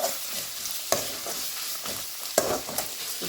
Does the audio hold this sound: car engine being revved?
no